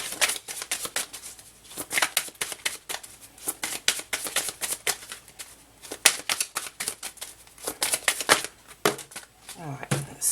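A deck of tarot cards is shuffled by hand in quick, crisp riffles and flicks, repeated in bursts throughout. There is soft handling noise between the bursts.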